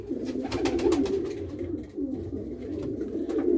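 Pigeons with their young in a loft, close, continuous throaty cooing with rhythmic pulses and soft wing or body rustles, no talk.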